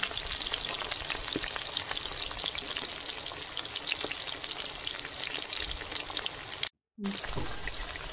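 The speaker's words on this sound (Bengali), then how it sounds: "এইভাবে লাল লাল করে সব চিকেনগুলো ভেজে নেব।" Steady, dense crackle of chicken pieces deep frying in hot oil, continuous throughout with one brief dropout near the end.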